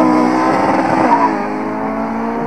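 An Audi TT race car roars hard down a quarter-mile drag strip at an airfield in Piła, loud and close for about a second before the engine note drops and fades.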